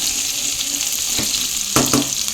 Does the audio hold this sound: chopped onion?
yes